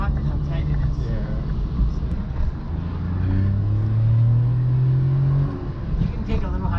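Mitsubishi Pajero Jr engine revving up while accelerating, a steady low drone rising in pitch from close inside the cramped cabin, with people talking over it.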